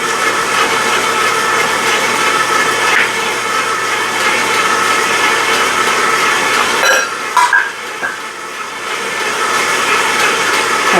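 An electric mixer whirs steadily through banana bread batter with flour, a loud, continuous motor drone with brief clattering near the end.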